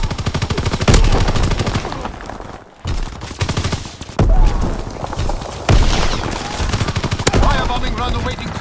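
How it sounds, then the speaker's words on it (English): Enemy aircraft strafe the ground with rapid machine-gun fire in Call of Duty WWII, loud bursts of gunfire and booms repeating close by in a chaotic battle, with voices shouting over the din. "Enemy strafing run, inbound!"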